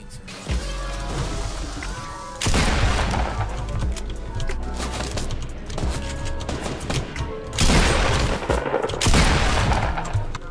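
Fortnite gunfire, loud bursts of rapid automatic shots and cracks coming in waves with short lulls between, close and dense with occasional thuds.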